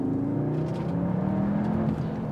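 A 2023 Cupra Leon Sportstourer VZ Cup ABT with 370 PS and 450 Nm accelerates in Cupra mode, a steady rising engine drone with climbing tone heard from inside the car, continuous and moderately loud.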